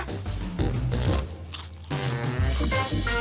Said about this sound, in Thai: ฉันก็กินป๊อปคอร์นแสนอร่อยนี้ได้